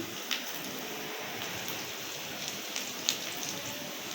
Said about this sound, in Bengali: তেলের উপরে চিংড়ি মাছগুলো দিয়ে একটু চিংড়ি মাছগুলো তেলে ভেজে নেব